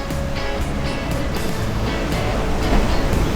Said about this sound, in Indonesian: Kita tunggu ombaknya guys.